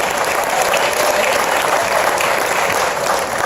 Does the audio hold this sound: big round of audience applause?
yes